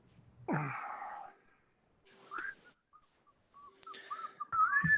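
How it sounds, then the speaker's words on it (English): A person whistles inside a school library, producing short, soft whistled notes with faint breathy sounds and pauses between them, nearby and alone. "Bender starts to whistle."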